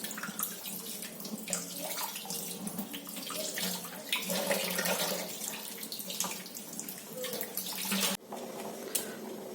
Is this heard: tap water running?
yes